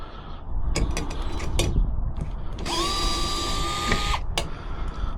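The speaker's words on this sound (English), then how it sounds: "I like this DeWalt screwdriver. I don't care for how little power it has." DeWalt power screwdriver during furnace repair on an HVAC unit, its motor whining for about a second and a half with a quick rise to a steady pitch, amid nearby clatter and handling noises.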